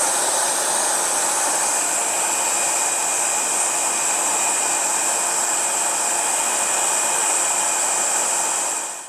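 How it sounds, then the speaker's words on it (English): A vacuum cleaner drawing dust from a motorcycle air filter on a 1979 Honda CBX runs as a loud, steady, airy whine throughout, then cuts off at the very end. "I'm going to use a stiff brush and a vacuum cleaner on this to get it really clean"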